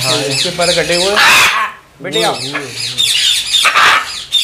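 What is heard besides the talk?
blue and gold macaw calling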